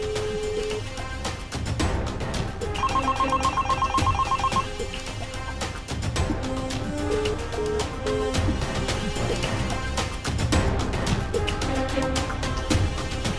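A telephone rings repeatedly without being picked up in an indoor drama scene, its electronic ringing tone repeating in steady bursts over a background music score.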